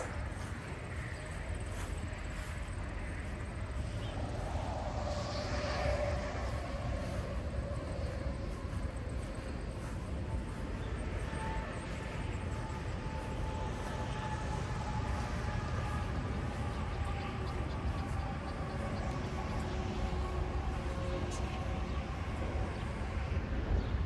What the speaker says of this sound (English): Freeway's a little loud.